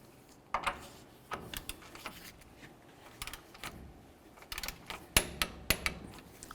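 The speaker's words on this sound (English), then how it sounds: "Now we're going to torque this nut to 48 foot-pounds." A torque wrench tightens a castle nut to 48 foot-pounds on a 1999-2007 Chevy Silverado front tie rod, faint metallic clicks and ratcheting taps in scattered bursts, a few sharper clicks near the end.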